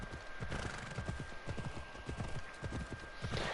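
Steady clip-clop of horse hooves at a walking pace through a town in a video game, close and continuous, with a faint constant tone and ambient game noise underneath.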